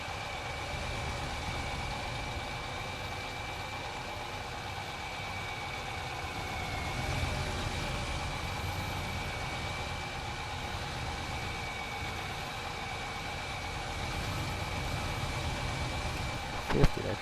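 A tractor engine runs steadily at low idle-like speed throughout, a continuous droning hum with a faint whine, fairly close, with no talk over it and a brief knock near the end.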